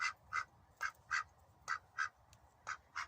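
A duck quacks repeatedly in a steady rhythm, about ten short nasal calls, fairly close against a quiet background.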